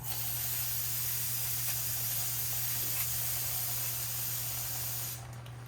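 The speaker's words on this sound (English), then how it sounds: "we're also gonna spray this with brake cleaner" A steady, loud aerosol spray of brake cleaner hisses continuously at close range onto a 2018 Jeep Wrangler JLU brake rotor over a low hum, then cuts off abruptly near the end.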